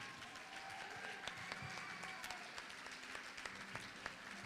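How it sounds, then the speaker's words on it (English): Audience at an outdoor Hawaiian slack key guitar festival in Kona applauds steadily, a dense wash of clapping with scattered sharper claps, moderately distant and continuous throughout. "Nice round of applause for Kata Maduli."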